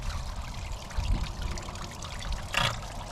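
A heavy hose fed from a pipe with holes in it shoots out water in a steady, fairly faint rushing hiss, with a couple of brief louder splashes and no voices.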